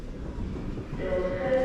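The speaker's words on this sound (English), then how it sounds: "Train coming in again." A train pulling into a UK railway station, a low rolling rumble that builds, with a thin metallic squeal rising near the end.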